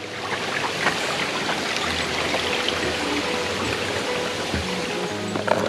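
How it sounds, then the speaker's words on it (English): A stream at Shanklin Chine on the Isle of Wight babbles and splashes continuously outdoors, fairly close and even in volume, with no voices. "Nice sound of running water."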